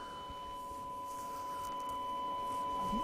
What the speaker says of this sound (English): It's not a bad sine wave,